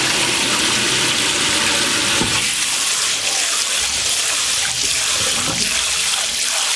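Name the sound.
rinsing rice in water in a pot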